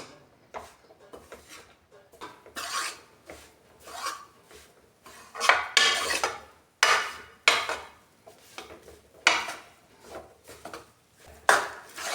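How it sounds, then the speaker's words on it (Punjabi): A spatula scrapes and stirs dry besan (gram flour) roasting in a pan in repeated rasping strokes. The strokes are close and uneven, growing louder and sharper as the stirring continues. "ਬੇਸਨ ਨੂੰ ਅਸੀਂ ਵਿੱਚ ਵਿੱਚ ਹਿਲਾਉਂਦੇ ਰਵਾਂਗੇ"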